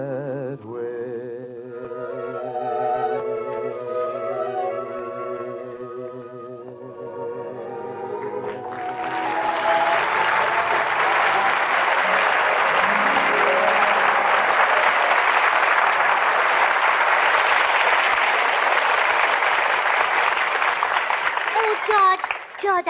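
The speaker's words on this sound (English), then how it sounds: "I heard all that applause outside" Music plays at first, then a large audience at an old-time radio show breaks into loud, sustained applause and cheering that fills the rest of the clip.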